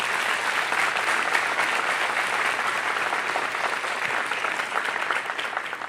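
A church congregation claps in praise during a sermon, a continuous, even wash of applause filling the room for several seconds without letting up.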